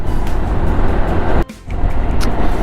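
Riding a Honda Forza 300 scooter at speed, a loud steady rush of engine drone and wind roar that cuts out briefly for a moment before resuming.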